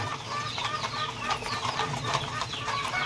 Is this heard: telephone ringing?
no